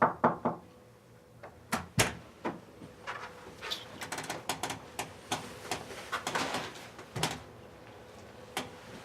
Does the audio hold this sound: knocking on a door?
yes